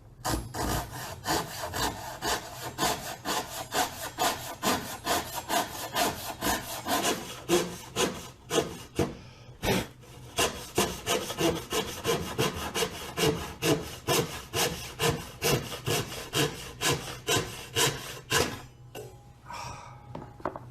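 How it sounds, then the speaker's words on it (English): A Japanese-style pull saw cuts wood for a handmade sword scabbard, the blade moving in steady, regular strokes with a rasping, rhythmic rhythm, a brief pause midway and another near the end. "You need no more pressure than the weight of the saw blade itself to cut."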